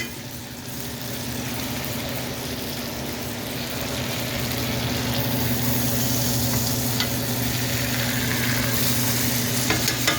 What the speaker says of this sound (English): put the garlic right on top and then baste it with that butter